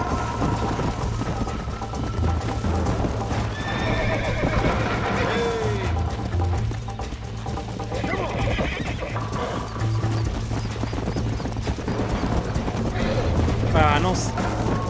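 Horse in the video game Red Dead Redemption neighing and whinnying while kicking, with hoof clip-clops and thuds under a dense game soundscape; several whinnies rise and fall across the stretch, close and loud.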